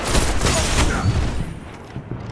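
Video game gunfire bursts with dense, loud shots in the first second and a half, thinning toward the end.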